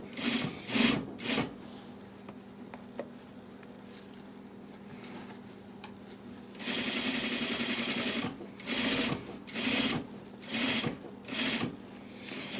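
A sewing machine stitches a slant pocket curve on pants or a skirt. It runs slowly in short bursts with brief pauses between them, then in a longer steady run, all close up.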